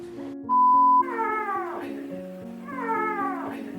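A small, thin kitten of about 350 grams, around two months old, gives a high, wavering meow and then another. Someone speaks softly in between, and a faint electronic beep sounds just before the first cry.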